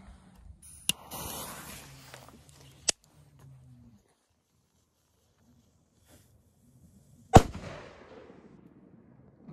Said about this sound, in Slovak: Petarda Carbon.